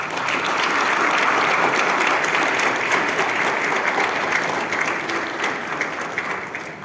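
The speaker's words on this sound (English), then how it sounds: "Another round of applause for Dr." An audience applauds steadily at the close of a memorial lecture, a dense, sustained clapping from a large crowd that slowly thins toward the end.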